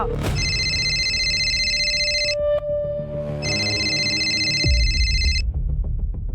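A telephone rings in two long bursts of bright electronic tones with a short gap between them, loud and close, over a low background and a few sharp knocks near the end.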